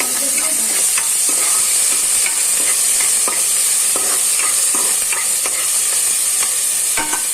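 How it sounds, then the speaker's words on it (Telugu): Mutton curry with ginger garlic paste being stirred and fried in hot oil, a constant loud sizzle broken by repeated scraping and clacking of a spoon against the pan, with no talking. "ఇది కూడా బాగా కలిపేయాలి, ఫ్రై అవ్వాలన్నమాట."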